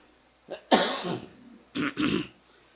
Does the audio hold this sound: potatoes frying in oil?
no